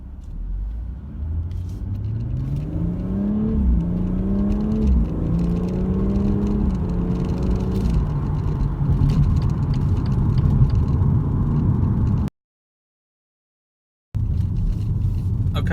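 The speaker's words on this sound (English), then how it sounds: "we're going to try a 0 to 60" BMW M240i automatic accelerating hard from a standstill to 60 mph on an open road, engine note climbing steadily through several gear changes, heard loud from inside the car before an abrupt silent gap and a brief return of cabin rumble.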